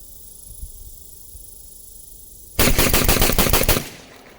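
A Beretta A300 semi-automatic shotgun fires a fast burst of roughly seven close, loud shots over about a second after a quiet outdoor lull with faint ambient hiss.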